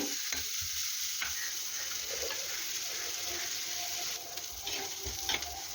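Chopped spinach (cheera) dropped into a pan of softening sliced onions sizzles steadily, with stirring scrapes and a few clatters near the end, close and moderately loud.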